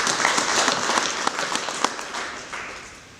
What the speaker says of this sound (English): so if we could clap for the United Nations